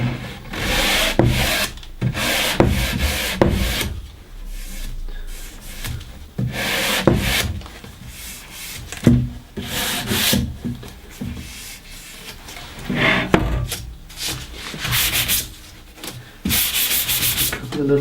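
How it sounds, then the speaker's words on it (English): A wooden edge is sanded by hand very gently with fine P320 sandpaper, giving close, steady rubbing strokes in an uneven rhythm with short pauses, heard alone without talk. "I'm just going to very gently go over it with some P320."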